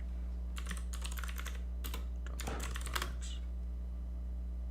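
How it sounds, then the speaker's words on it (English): Loud clacky typing on a mechanical keyboard with blue switches, bursts of rapid keystrokes with short pauses, close up over a steady low electrical hum. "I'm muted because my keyboard's loud as fuck."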